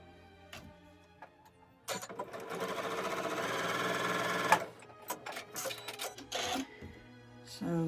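A sewing machine with a foot-operated thread cutter, used for quilting a pillow, runs in a steady close whir for a few seconds, then gives several short mechanical clicks and clunks amid quiet room sounds.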